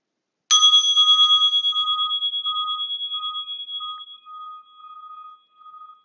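A single bell is struck to end a yin yoga pose, a sharp strike followed by a long, clear ringing tone that slowly fades out and wavers, alone in silence.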